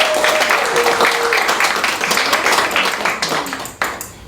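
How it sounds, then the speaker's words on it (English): Audience applause for two guest authors at an evening talk event, a dense steady clapping from a room full of people that carries on loud throughout and thins slightly near the end. "please give them a round of applause"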